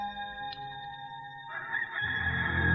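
A rooster crows in a dramatized Bible scene of Peter's denial, the call rising against a sustained musical background that swells louder toward the end.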